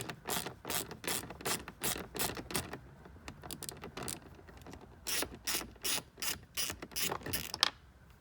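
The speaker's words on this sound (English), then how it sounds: "I have found that a 10mm socket attached to a hand wrench is the easiest to use" Hand ratchet wrench with a 10mm socket loosening screws in a Lexus GX470 dash, rapid clicking bursts repeated in short runs with brief pauses, close and fairly quiet.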